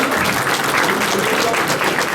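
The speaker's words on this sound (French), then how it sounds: "On peut tous s'applaudir quand même pour se motiver." A community gathering's audience claps together, a dense, steady applause that stays at an even, fairly loud level throughout.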